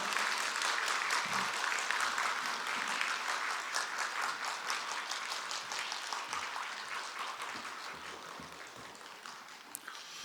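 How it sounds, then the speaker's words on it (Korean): A church congregation at a Monday intercessory prayer meeting claps to welcome a pastor: dense, sustained applause from many hands that fills the room and slowly tapers off over ten seconds. "우리 서진교 목사님을 이 시간 우리 박수로 한번 환영하며"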